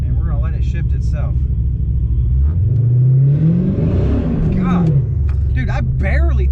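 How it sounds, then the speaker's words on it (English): A supercharged Dodge Challenger R/T roars under hard acceleration on the street, its engine note sweeping up through a rising rev climb with tire-slip flare, loud and close, with people talking over it inside the car. "I barely touched the gas and this car went freaking sideways"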